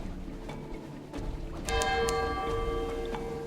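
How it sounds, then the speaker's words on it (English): A distant bell rings out at sea in the Sunless Sea video game, a few resonant, ringing tones over a low ambient drone, moderately loud with lingering tails. "Somehow we heard a distant bell in the middle of the ocean."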